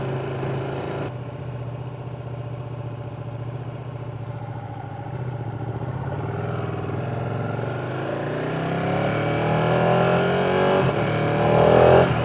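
A Ducati 959 Panigale engine idles with a deep, lumpy chug, then revs up, its pitch climbing loudly toward the end; no talking.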